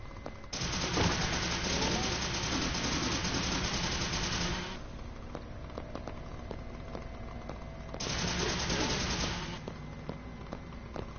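SMG fire in a video game comes in two dense bursts of rapid shots, each lasting several seconds with a gap between, over a constant game background.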